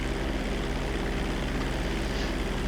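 An airliner drones steadily on a long, wide approach to the main runway in GTA V, its engine roar continuous and loud with no break.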